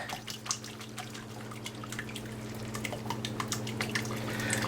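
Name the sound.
water draining from cooked potatoes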